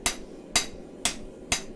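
Hot steel is struck at a forge to shape a chef knife, four evenly spaced, ringing hammer blows about half a second apart, close and clear with no talk.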